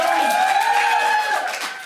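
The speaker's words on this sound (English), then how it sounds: "round of applause, you're returning guests to the show" A comedy club audience cheers and whoops for returning guests at a stand-up show, a steady crowd roar with scattered clapping that fades slightly toward the end.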